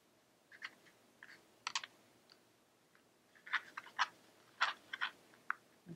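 A knife trims excess fondant or decoration from a Victorian-style cupcake, giving a series of soft, close clicks and scrapes in irregular bursts with no talk.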